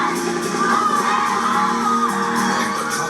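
A large crowd of volunteers at an Extreme Makeover: Home Edition house reveal cheering, whooping and yelling together in a loud, sustained roar with no speech.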